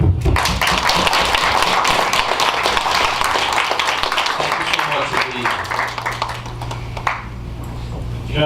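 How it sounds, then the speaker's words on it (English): An audience at an opening ceremony applauds, with dense, sustained clapping and scattered sharp taps that carry on steadily, while a voice talks over it near the end. "you should really turn around and applaud your parents tonight"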